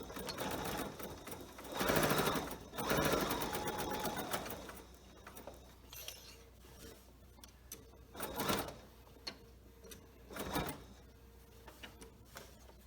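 A sewing machine stitches a wide seam on a homemade fabric mask, running in uneven bursts of whirring with brief pauses and sharp louder peaks between stretches.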